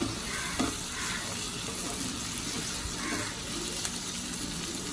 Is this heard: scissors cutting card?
no